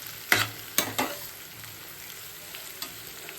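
Chopped spinach (palak) frying in a pan while being stirred, with a few sharp scraping stir strokes early on over a faint steady sizzle that continues quietly afterward; no talking.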